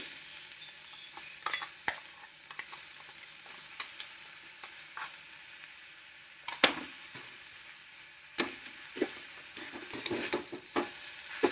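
A spoon scrapes and stirs a thick chilli-tamarind paste in a hot pan, with irregular clinks and scrapes over a faint sizzle.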